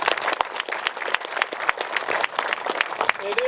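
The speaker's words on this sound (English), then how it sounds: "Give him a round of applause." Outdoor crowd at a harbor groundbreaking ceremony claps in a lively round of applause, distinct individual claps clustered and uneven, with a voice starting to speak near the end.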